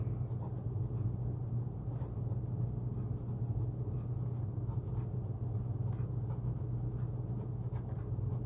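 A pen with Monteverde California Teal ink writes steadily on a writing tablet, a continuous faint scratching over a constant low background rumble.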